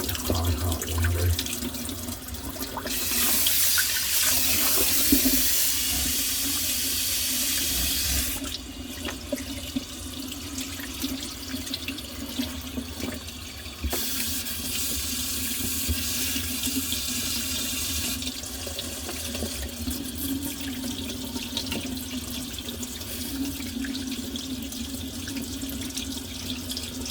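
Hot water runs from a tap into a sink in a continuous, fairly loud rush. The flow surges and eases several times, with faint clinks and handling sounds of an old vase being cleaned.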